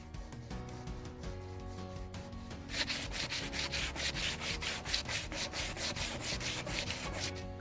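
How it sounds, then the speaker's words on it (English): Steady back-and-forth scraping of sandpaper on wood, rhythmic strokes growing louder and more continuous after a quieter start. "I sanded down most of the rough edges and it took about 30 minutes hand sanding"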